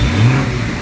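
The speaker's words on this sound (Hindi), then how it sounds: "3000 सीसी के स्ट्रेट 6 BMW टर्बोचार्ज इंजन की एग्जॉस्ट नोट तो सुनाना आपको बनता है" A 2023 BMW M340i's 3.0-litre turbocharged straight-six gives a short, loud, close burst of deep exhaust rumble as it fires up, swelling briefly and then settling.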